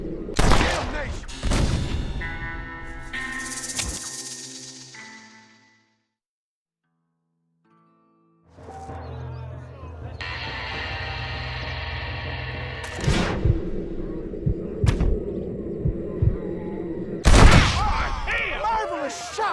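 Gunshots in Red Dead Redemption ring out among game sounds and music, with a few sharp cracks early, a silent gap, then a run of quick shots and a loud blast near the end.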